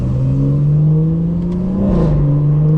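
A 2018 BMW 4 Series hatchback with a Stage 2 tune drones loudly and close by. The engine note climbs steadily in pitch, then drops sharply near the end and settles into a lower hum.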